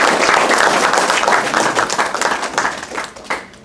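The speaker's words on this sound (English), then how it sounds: "So give them a round of applause." An audience at a school debate competition applauds the proposing and opposing teams with dense, steady clapping that thins out and fades toward the end.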